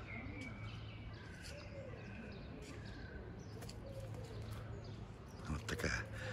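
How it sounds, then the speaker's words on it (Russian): Small birds chirp and a dove coos outdoors in Yalta, a steady layer of calls over soft background hum, with a slightly louder burst near the end. "Вам слышно, как птички поют?"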